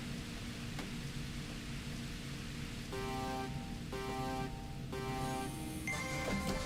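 Steady rain hiss fills the background of Initial D Arcade Stage 8 Infinity as a Subaru Impreza race plays out, a constant wash of noise with short tonal game chimes layered on top.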